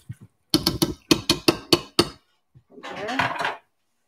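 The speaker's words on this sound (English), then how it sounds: "Here I'm just gonna stir it together." A spoon stirs a coarse mashed Thanksgiving side dish in a cast iron pan, giving seven sharp, evenly spaced scraping knocks against the iron, then a short rougher stretch of mixing nearby.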